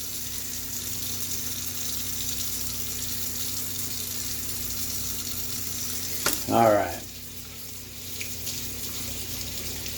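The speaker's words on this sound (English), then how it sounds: "Hot water, degreaser, that's how we clean these air filter parts." Hot water and degreaser run steadily while air filter parts from Traxxas and Kyosho nitro RC engines are washed, with a brief voice and a short splash partway through.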